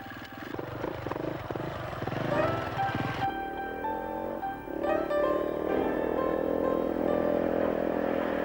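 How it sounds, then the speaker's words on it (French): A 1993 KTM 400 LC4 enduro single-cylinder engine starts by kick and fires into a loud, rough, throbbing idle with uneven blips of the throttle, close by and with no one talking. "Le démarrage s'effectue au kick, un robuste coup de jarret est indispensable."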